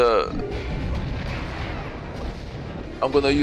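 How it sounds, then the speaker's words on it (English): Heavy booming fire from a giant cannon carried by a Termite enemy in the Xbox 360 game Kameo: Elements of Power, a dense rumbling barrage that keeps up throughout, with game voices breaking in near the end. "It's a Termite with a big giant cannon"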